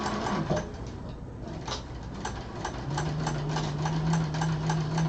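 Sewing machine stitching vinyl, a steady motor drone with rhythmic needle ticks running throughout, close and moderately loud, a low hum joining in the second half.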